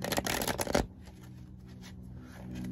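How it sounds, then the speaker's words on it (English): A quick burst of a deck of cards being riffled and shuffled up close, crisp and fluttering, then fading into quiet room noise. "I'm going to shuffle this deck quickly"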